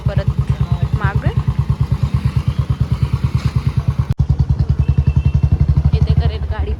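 A motorcycle with a sticking silencer, its engine chugging in a fast, even, loud pulse close by, while people talk over it.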